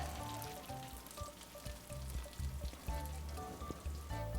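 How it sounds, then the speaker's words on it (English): Everything bagel panko-crusted pork cutlets fry in a pan with a busy, crackling sizzle and bubbling pops that rise and fall unevenly throughout. "Put this in the pan and let it brown."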